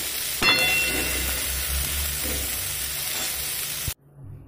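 Green peas frying in oil in a pan, a steady close sizzle with a few sharp clinks of stirring, ending abruptly.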